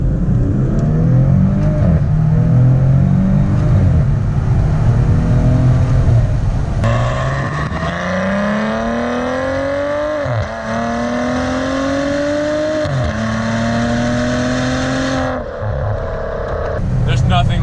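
A Maserati Ghibli engine revs hard under acceleration with the window down, a loud, steady roar rising in pitch through successive gear changes, with brief dips at each shift.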